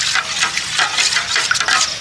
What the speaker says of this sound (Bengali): আমি এখানে একটু গুঁড়ো দুধ দিয়ে এই জলের সাথে সুন্দর করে মিশিয়ে নিচ্ছি